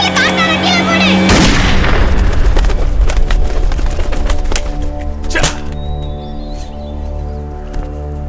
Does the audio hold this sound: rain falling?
no